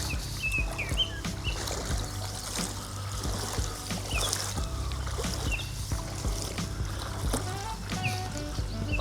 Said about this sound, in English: I can hear another boat, so we'll just wait a minute.